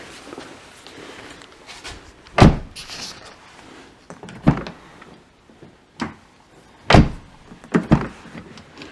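An Infiniti M45 car door shutting after repair of a faulty check rod, with several separate loud thumps of the door closing and latching, spaced a second or two apart, with quieter handling noise between them.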